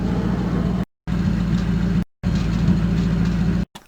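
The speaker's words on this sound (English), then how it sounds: "sound of my car here. So we've got an idle. Let's see what that sounds like." A recorded car engine idles in a steady low rumble, cut into three loud, even segments separated by brief silent gaps.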